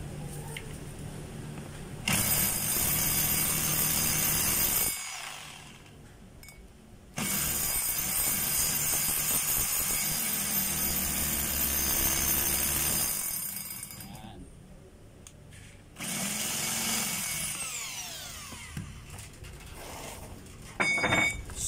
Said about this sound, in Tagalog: Ito po yung hammer. Medyo maingay siya pag hammer.